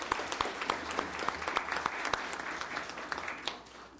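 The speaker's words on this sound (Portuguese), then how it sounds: "uma salva de palmas para o Chico Vigilante aqui" An audience at a Brazilian Senate human rights committee session applauds Chico Vigilante, a steady round of clapping from a modest crowd that fades slightly toward the end.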